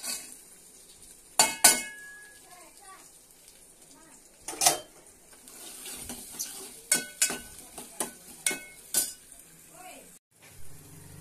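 Onions frying in a pan with salt and turmeric give a steady close sizzle, broken by several sharp clinks and scrapes of a spoon stirring against the metal pan.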